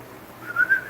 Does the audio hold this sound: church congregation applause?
no